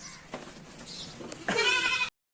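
A single goat bleats nearby, a wavering nasal call rising after a few soft rustles and knocks.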